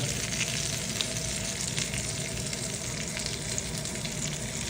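Meat sizzling steadily in a pan on a Luxor ceramic glass induction cooktop, a continuous close, even frying hiss with no talk.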